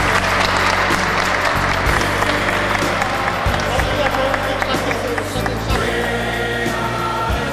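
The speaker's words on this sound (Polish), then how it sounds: "Wielkie brawa dla tych szakistek." Loud applause rises for young chess players at a diocesan chess league award ceremony, sustained clapping with a low hum and occasional voices beneath.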